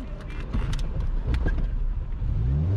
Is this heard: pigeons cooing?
no